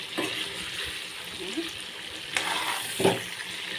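Pieces of broiler chicken fry in oil with a continuous sizzle, broken by a few scraping stirs of the spoon in the pan, heard up close at a moderate level.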